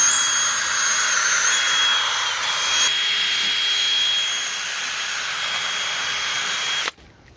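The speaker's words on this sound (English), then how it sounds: "You just use a regular drill with a bit" An ordinary electric drill fitted with a bit bores holes into a thick steel axe head, whining steadily and close up for about seven seconds, easing slightly midway before cutting off abruptly.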